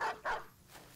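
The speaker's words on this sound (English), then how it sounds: "War dogs again." War dogs in the video game Battle Brothers give two short, loud barks in quick succession, followed by a fainter fading tail.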